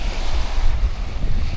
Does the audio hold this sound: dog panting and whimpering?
no